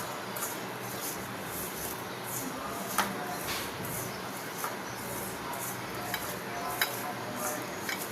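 Small fish being hand-mixed with turmeric and chili powder in a bowl for a chorchori, a steady wet squelching and rubbing with occasional light clinks of the dish under a constant kitchen background hiss.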